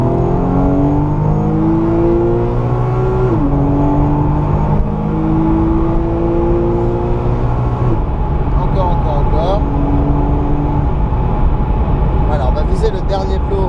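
A car engine revs hard at full throttle on a driving lesson at Le Mans, climbing through gears with rising whine and shift drops, loud and close, while an instructor talks over it.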